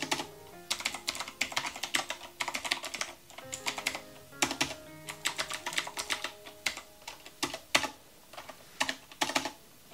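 Rapid clacky keystrokes on a mechanical keyboard, bursts of typing with brief pauses, close and crisp.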